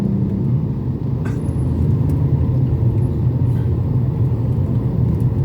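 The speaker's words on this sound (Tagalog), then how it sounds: "hindi naman nagkaka-traffic dito pero ngayon sobra na ang traffic" Heavy, congested road traffic fills the air with a constant low engine rumble and idling vehicles, with a faint hiss of brakes now and then and no talk.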